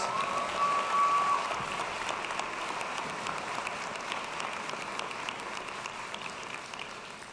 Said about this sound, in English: Claps for the sports management majors.